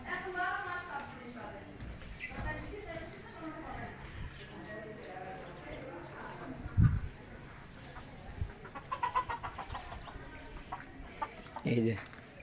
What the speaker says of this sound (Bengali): এই যে আমার দেশি জাতের মুরগি, এই যে পাকিস্তানি আছে, এখানে দেশি আছে